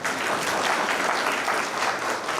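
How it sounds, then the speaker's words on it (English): An audience at a conference's valedictory function breaks into a full, even round of applause, many hands clapping densely and steadily throughout without any talk over it. "Big round of applause."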